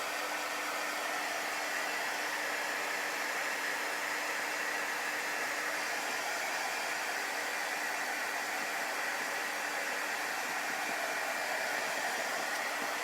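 A hair dryer blows steadily to dry chalk paste on boards, a continuous, even, breathy whoosh that holds at a constant level from start to finish with no talking.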